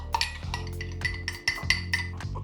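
Spoon scraping and clinking against a pot while red wine and passata are stirred into a spaghetti bolognese, a series of close, irregular metallic knocks over a low background hum.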